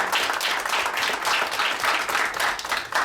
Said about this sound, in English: Please, let's give a welcome round of applause for Mr. Melvin Foote.